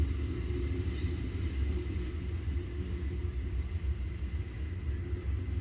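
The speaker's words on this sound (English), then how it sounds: "The train stops here for about 10 minutes to load and unload passengers and bags" A low, steady rumble of a train stopped at a station platform in the Reno ReTRAC trench, with a faint mechanical hum and no distinct events.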